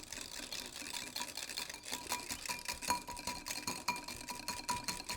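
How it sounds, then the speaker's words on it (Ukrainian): A wire whisk beats a summer salad dressing in a bowl until it emulsifies and thickens, giving a rapid, steady stream of close metallic scraping and clicking ticks against the bowl. "І вінчик. Збиваємо так то все до стану емульсії."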